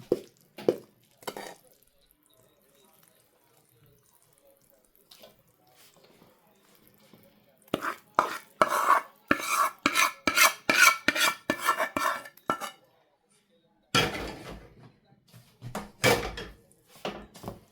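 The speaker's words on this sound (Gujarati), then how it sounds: "મિક્સ કરી દો બધું." A spoon scrapes and rasps through churma ladoo mixture in a pan in a home kitchen, coming in irregular bursts of loud stirring and scraping separated by quiet pauses.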